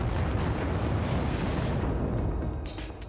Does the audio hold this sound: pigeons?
no